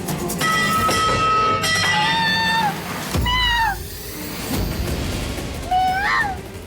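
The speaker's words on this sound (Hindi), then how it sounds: "घर में बिल्ली" A cat inside a house meows several times, with high, drawn-out and falling cries spread across a few seconds over background music.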